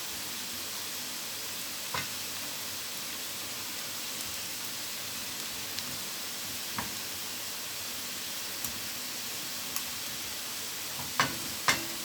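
Meat cooking in a pot over lowered heat gives a low, steady hiss and gentle sizzle, with occasional faint clicks and a couple of soft knocks near the end, no talk.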